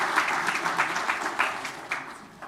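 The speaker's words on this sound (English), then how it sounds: "this applause." Applause from the audience at a DevConf 2017 conference talk, a steady patter of many hands clapping nearby, holding for a couple of seconds before thinning out.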